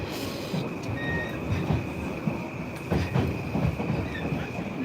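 A Tokyo train pulls into Shibuya station with a continuous rumbling roll, rhythmic clickety-clack from the wheels and thin squeals from the rails, heard close from inside a car.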